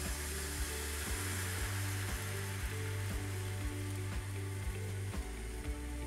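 Green coconut pancake batter frying in a hot oiled pan for Malaysian kuih dadar, a steady close hiss of sizzling over a low humming background with faint regular clicks, no talking.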